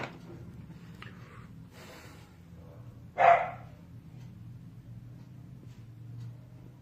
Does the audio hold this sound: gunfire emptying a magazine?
no